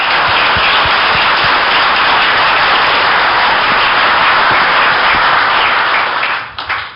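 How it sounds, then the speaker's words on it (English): Dense, loud audience applause for pool player Johnny Archer at an 8-ball match, steady and sustained for several seconds before tapering off abruptly at the end. "So give Johnny a round of applause"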